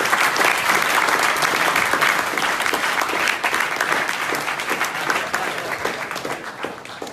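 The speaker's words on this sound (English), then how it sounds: "Big applause." Sustained applause from a large audience, a dense wash of many hands clapping that holds steady for several seconds and eases off slightly near the end.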